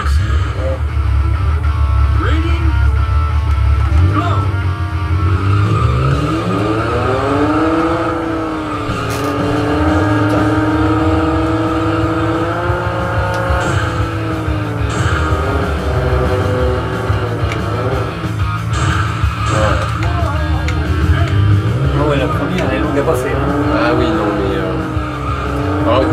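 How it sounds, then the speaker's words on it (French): In the Super Runabout 2000 video game, a car engine revs up and down through gear changes while tires skid and squeal repeatedly, loud and close, with a voice talking over the game sound. "Bon, on va essayer la première voiture."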